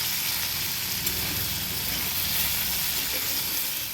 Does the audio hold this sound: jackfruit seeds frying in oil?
yes